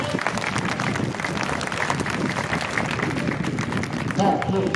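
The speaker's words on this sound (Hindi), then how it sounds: "एक बार जोरदार तालियां बजाइए बच्चों के लिए" A school audience claps loudly for children at a Veer Bal Diwas ceremony at an Army Public School in Pithoragarh, a dense, steady wash of applause that continues throughout and swells slightly near the end.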